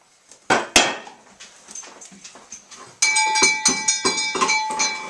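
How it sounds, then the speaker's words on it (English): A dog in a home kitchen during baguette baking gives a couple of sharp, close barks, then whines and yelps over clattering spoons and dishes, with no talk. "That's our lovely dog."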